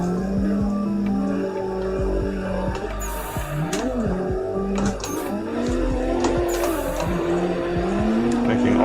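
A drift car in the racing game Assetto Corsa, a big four-door sedan, holds a loud, wavering engine drone that climbs and dips with throttle, tire squeal layered over it, and a few brief high-pitched bursts, with occasional faint talk underneath.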